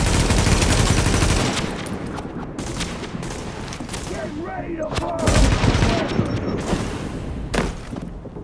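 Gunfire in Tom Clancy's The Division video game: loud, close bursts of automatic fire and sharp single shots recur throughout, mixed with booms and game ambience.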